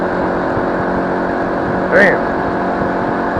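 An XPro 125 cafe motorcycle drones at speed with steady, loud engine and wind noise throughout, and a rider briefly exclaims over it midway.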